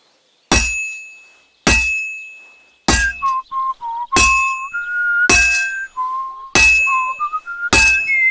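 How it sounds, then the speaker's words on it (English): Seven sharp metallic clangs, each ringing out, as a hammer strikes a sword on an anvil while blacksmithing in the video game Kingdom Come: Deliverance 2; the blows come at uneven intervals with no voices. "Now take the hammer and try hitting it a few times."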